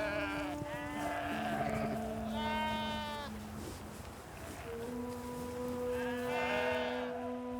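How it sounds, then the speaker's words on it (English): Gotland sheep grazing on unploughed conservation grassland on the island of Samsø bleat several times: three drawn-out, wavering calls spaced a few seconds apart over a quiet outdoor backdrop with a steady low tone. "The Highland cattle and Gotland sheep grazing here"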